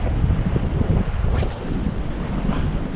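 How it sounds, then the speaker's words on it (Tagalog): Strong wind roars and buffets the microphone nonstop, a loud rumbling gusty noise with strong current water washing faintly underneath, while jig fishing. "Ang lakas ng hangin eh, tas lakas ng agos."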